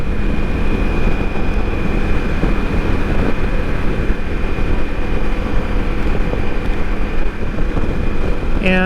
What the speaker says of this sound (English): Not thrilled with the wind noise, but I'll shut my visor